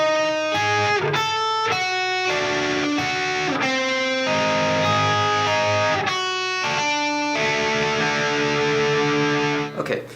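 Heavily distorted electric guitar playing a flat-five-to-one progression, sustained chords shifting every second or so for ten seconds, loud and close with no talking.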